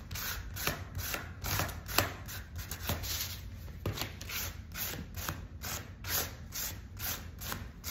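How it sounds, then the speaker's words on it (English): Sandpaper rubs the painted edge of a small craft piece in quick repeated strokes, a close, quiet, rhythmic scratchy rasp with about a dozen passes. "I am going to sand just my very edge right here just a little bit"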